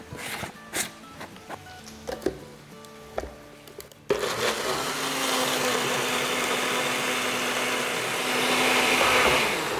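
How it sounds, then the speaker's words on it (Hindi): Soaked cashews pureed in an electric blender: a few clinks and knocks of the jar being set up, then the motor bursts on into a loud, steady whirring roar that carries on to the end, close by and with no talk. "इसको आप ब्लेंड कर लेंगे।"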